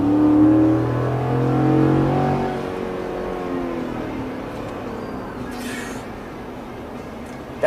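A 2025 Ford F-150 XL SuperCrew 4x4 pickup accelerates from inside the cab, the engine rising in pitch through the gears before settling into a steady cruising drone, with a faint click near the end.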